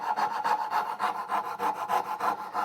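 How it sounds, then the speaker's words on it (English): A fret saw cuts through wood to hog out waste for hand-cut dovetails: a steady run of about a dozen close, rhythmic back-and-forth rasping strokes with no talking. "we're going to go back to the fret saw to hog out this material quickly"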